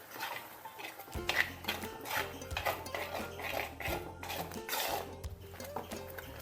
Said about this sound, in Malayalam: ഇതേപോലെ അരച്ചെടുത്തിട്ടുള്ള അരപ്പ് നമുക്ക് ഇതിലേക്ക് ചേർത്ത് കൊടുക്കാം.